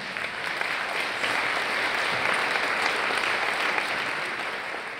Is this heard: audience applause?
yes